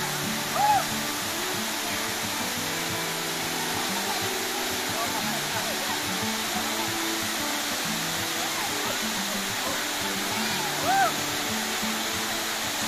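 Bailan waterfall in Mambusao, Capiz, Philippines, rushes as a steady, broad roar of falling water, loud and continuous, with a couple of brief voice sounds over it.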